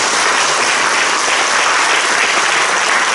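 Applause from a large church assembly at a Presbyterian general assembly installation service, a loud, dense and sustained wash of clapping filling the hall without pause.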